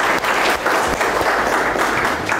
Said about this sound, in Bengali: ওনার জন্য একটা আমরা হাততালি দিতে পারি।